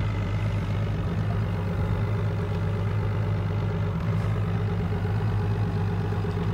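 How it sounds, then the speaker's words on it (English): A Whitmarsh RS7 performance RIB's engine idles steadily, a continuous low throbbing rumble that stays level and close throughout with no talking. "I've started the engine so you could see the revs running on there, just so you can hear it"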